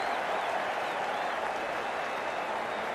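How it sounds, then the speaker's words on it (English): Cricket crowd applauding a shot at an amateur league match, steady dense clapping and cheering throughout, loud and continuous. "The crowd on their feet."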